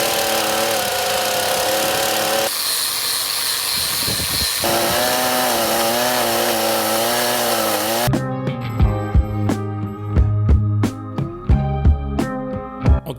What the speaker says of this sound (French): Le seul moyen que j'ai trouvé c'était de le couper à la tronçonneuse.